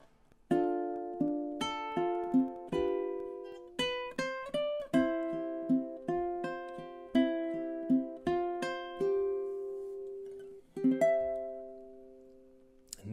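Fingerstyle ukulele plays the closing bars of the Celtic tune Carrickfergus, clear plucked notes and chords ringing out one after another in a slow, measured rhythm and ending on a sustained final chord.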